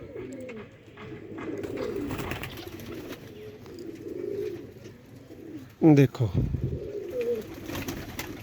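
Sialkoti roof pigeons coo in rolling, throaty bursts at close range, with a louder burst near the end, while someone speaks briefly over them.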